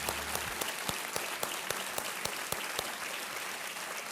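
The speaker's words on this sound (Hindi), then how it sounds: "तालियों के साथ अभिनंदन किया जाए इनका।" A studio audience on the Hindi quiz show Kaun Banega Crorepati applauds steadily and fairly loudly after a contestant wins 25 lakh rupees, with sharp individual claps standing out in a rhythmic pattern.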